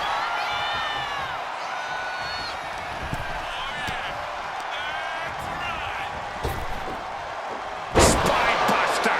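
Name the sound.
crowd cheering in the video game WWE 2K25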